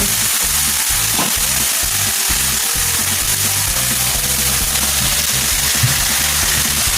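Canned salmon, skin and bone removed, frying in a pan after dumplings, an even loud sizzle with light stirring clatter, no voices.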